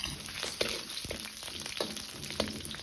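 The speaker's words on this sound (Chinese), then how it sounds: "再放入切好的姜葱，炒出香味" Ginger and scallion with star anise stir-fry in hot oil in a wok. A bright crackling sizzle is broken by several rhythmic spatula strikes and scrapes against the metal, close up.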